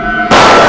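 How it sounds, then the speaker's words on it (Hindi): A single sharp, loud gunshot sound effect in a crime drama cuts in abruptly after a brief sustained tone and leaves a dense, noisy blast with no talk over it. "गोली चलने की आवाज।"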